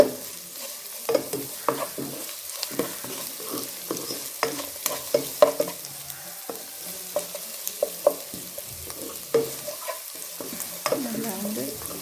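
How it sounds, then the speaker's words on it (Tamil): Whole spices tempering in hot oil for a pipe fish curry, with a steady sizzle broken by repeated clinks and scrapes of a spoon stirring the pan, close and fairly quiet, with no talking. "இப்போ இதையும் சேர்த்து நல்லா தாளித்து கொள்ளுவோம்."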